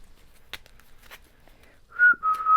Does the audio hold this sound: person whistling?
yes